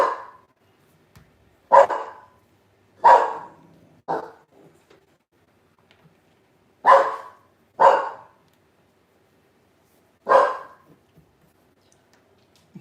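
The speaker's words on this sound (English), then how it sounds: "Dorian, stop barking" A dog indoors at home barks in sharp, separate bursts, about seven over roughly thirteen seconds, close and fairly loud with quiet gaps and no talking.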